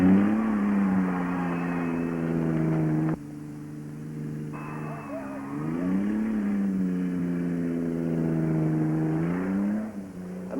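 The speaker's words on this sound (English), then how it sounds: "All eyes on the cars as they hit that turn up there." Cars race around a banked turn at a thrill show, their engines whining loudly and rising and falling in pitch as they accelerate through the curve, the noise dropping briefly before surging again.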